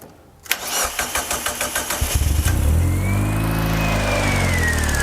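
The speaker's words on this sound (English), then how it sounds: "now she starts and runs as sweet as you like" A Mazda turbo car engine cranks in a rapid rhythmic starter chug, catches, and revs up loudly before settling into a steady, smooth idle, heard close up in a workshop.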